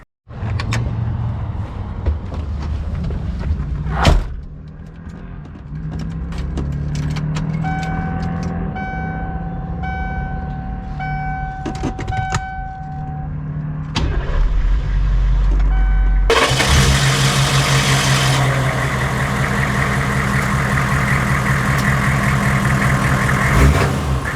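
Militarized Hummer H1 in DEA edition: doors clunk and mechanical clicks sound over a low idling engine, a steady tone chimes for a few seconds, then the engine grows louder and settles into a sustained drive.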